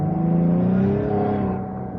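A 2016 Cadillac ATS-V accelerates at moderate throttle, its engine droning steadily with a rising pitch, loud and close, then easing slightly at the end with no talk.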